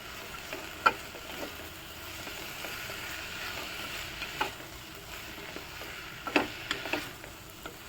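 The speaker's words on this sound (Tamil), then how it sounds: "இப்போ இதையும் நல்லா ஆயிலில் அப்படியே ஃப்ரை பண்ணணும்" Two large tomatoes frying in oil as an egg gravy is made, a soft steady sizzle with scattered light clicks and a few louder taps from stirring.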